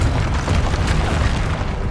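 A Confringo spell explodes in Hogwarts Legacy as a loud, dense boom that stays thick and rumbling for nearly two seconds without a break.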